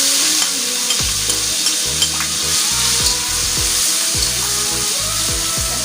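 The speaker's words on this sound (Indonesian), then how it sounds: "kita tumis dulu bumbu halusnya ya" Coarsely ground green chili paste sizzles and fries steadily in a hot pan, loud and close, with repeated scraping strokes of a spatula stirring it in a rhythmic pattern throughout.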